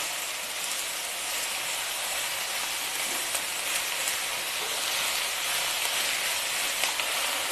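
Green onion greens sizzle and fry in a pan, a steady broadband hiss running evenly throughout with faint crackles and no talking.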